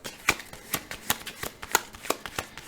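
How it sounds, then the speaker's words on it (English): A deck of playing cards for the Marvel Champions card game is shuffled by hand, giving a run of about ten crisp riffling bursts spaced roughly a quarter second apart, close and fairly quiet with no voice. "I'm going to shuffle the encounter deck one more time."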